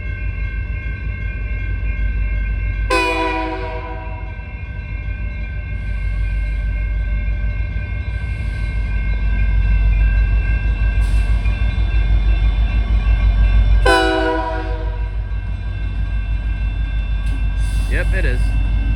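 A train passes a railroad crossing with a steady low rumble throughout, and two loud horn blasts sound near the 3-second and 14-second marks, each fading out over a few seconds.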